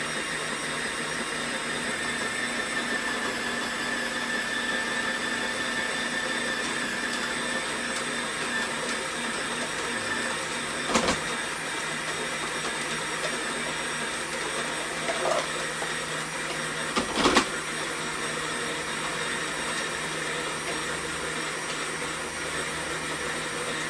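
Electric grater attachment on a vintage kitchen mixer running at speed 7 and grating soft mozzarella: a steady, loud motor whine and whir held throughout, with a few brief clunks and rattles from feeding the cheese.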